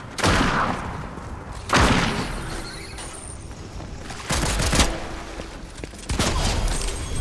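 Gunfire in an online shooter video game comes as several sharp, loud bursts a second or two apart, with a busy rumbling background between the volleys.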